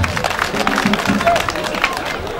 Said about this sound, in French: Que je demande d'applaudir, s'il vous plaît.